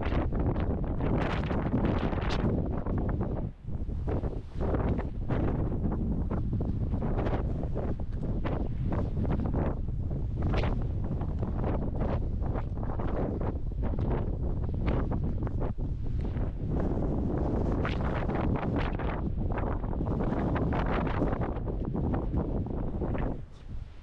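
Strong outdoor wind buffets the microphone without a break, a loud, rough roar at an old prison colony on the coast of southern France.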